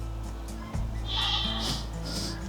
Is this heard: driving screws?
no